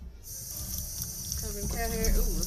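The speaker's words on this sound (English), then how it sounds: "let's not put too much water in there" Water poured into a pot of prickly pear and dancing bones cactus cuttings, a steady close trickle and gurgle that rises as the pot fills, with a voice briefly audible.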